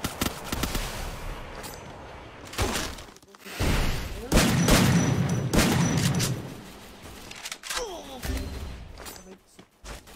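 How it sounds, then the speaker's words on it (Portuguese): Gunfire in the video game Free Fire comes in bursts of rapid shots and thuds, loud and clustered with pauses between, while a player's voice can be heard at times alongside. "eu levei tiro de todo lado aqui pra eu atravessar"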